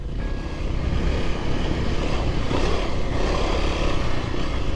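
A Kawasaki KLX300R trail motorcycle ridden off-road, its engine a steady, loud drone with wind rush throughout, no talking.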